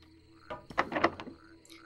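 A frog croaks in a video game, a short cluster of rough, throaty bursts near the middle of an otherwise quiet moment, moderately loud and heard alone without talk.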